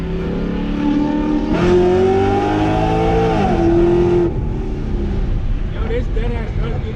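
A 2009 Pontiac G8 accelerates hard in second gear, its engine note climbing steadily and loud from inside the cabin, easing off briefly near the middle before pulling again, with people talking over it.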